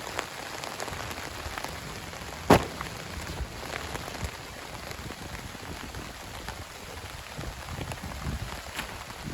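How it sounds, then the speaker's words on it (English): Steady rain falls during a tropical storm, a dense, even hiss of drops striking surfaces all around, with one sharp louder splat or knock partway through and no talking. "We gotta love this rain."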